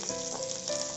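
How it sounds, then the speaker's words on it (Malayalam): Sliced onion, green chilli and capsicum sauté in oil for egg chilli, a soft, continuous sizzle heard close up, steady and fairly quiet. "നന്നായിട്ടൊന്ന് വഴറ്റിയെടുക്കുക"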